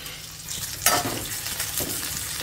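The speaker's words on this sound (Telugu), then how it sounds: "ఇంకా ఇదే ఆయిల్లో ఈ దొండకాయ ముక్కల్ని వేసుకొని ఫ్రై చేసుకోవాలి" Ivy gourd (tindora) pieces fry in oil with a continuous crackling sizzle that flares sharply as they are stirred, followed by softer scrapes against the pan.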